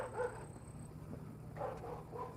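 Dogs bark faintly at a distance in a home, with a few soft, brief yips and barks over a quiet background.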